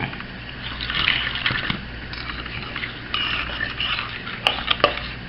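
Lemon juice is poured into a baked blue crab casserole mixture in a home kitchen, giving a soft, close liquid trickle along with light clinks of utensils against a dish.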